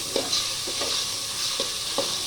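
Freshly ground ginger garlic paste sizzles steadily in a pan over cooked-down tomatoes while a spoon stirs and taps through it in a few soft, irregular strokes, close and continuous with no talking.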